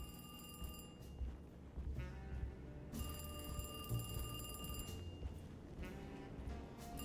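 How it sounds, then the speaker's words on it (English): A doorbell in the Alone in the Dark video game rings in repeated bright electronic bursts, sounding several times in a row at moderate loudness with no talk over it. "But there's somebody ringing the door!"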